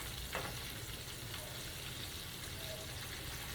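Baby back ribs lifted out of hot deep-frying grease give off a steady, faint sizzle and crackle of oil, with an occasional small pop, continuous throughout.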